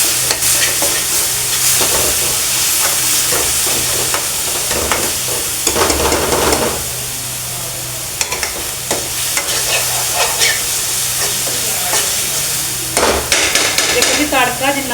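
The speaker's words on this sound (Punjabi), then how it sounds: "ਇਹਦਾ ਪਿਆਜ਼ ਵੀ ਆਪਣਾ ਭੁੱਜ ਰਿਹਾ ਵਾ" Onions frying in a small hot pan for spinach paneer, with a ladle stirring and scraping repeatedly; steady close sizzle with irregular metallic clinks throughout, no talking.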